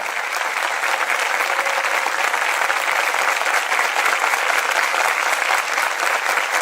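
Studio audience applauding in tribute to the Chapecoense football team and the people of Chapecó, a loud, sustained wall of clapping from a large crowd that holds evenly from start to finish.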